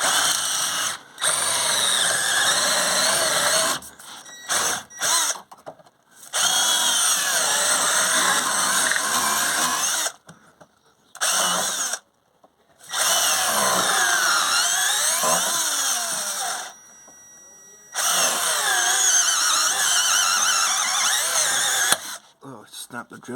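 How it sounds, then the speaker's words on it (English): A power drill whines loudly in long runs broken by short pauses, grinding and labouring as it winds out a seized rear axle bush on a Vauxhall Astra, close to the listener. "should get hold of the drill and start winding it round"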